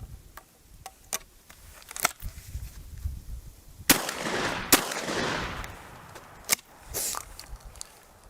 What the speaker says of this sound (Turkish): tek kurşunla test atışını yapıyoruz